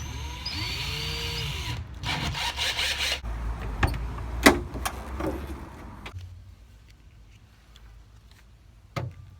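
A drill fitted with a wood bit bores through soft metal made by Peugeot: a motor whines as it revs, then gives a few grinding bursts, followed by scattered clicks and knocks, near and moderate, with no speech.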